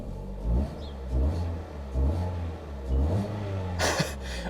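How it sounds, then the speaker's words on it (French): A car with a 16-valve petrol engine accelerates through repeated rising revs, each pull climbing then dropping as gears change, loud and close with a rumbling undertone and a brief rushing burst near the end. "Écoutez-moi juste le bruit du bolide parce qu'on est quand même sur un moteur 16V"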